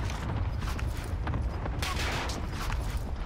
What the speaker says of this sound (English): There's multiple shooting.